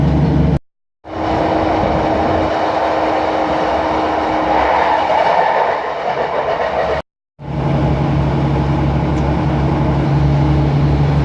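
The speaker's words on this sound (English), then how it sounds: "So that's the train I'm not going to be getting on" A train rumbles past up close, a loud steady roar of wheels and rail noise with a sustained hum, briefly cut out twice.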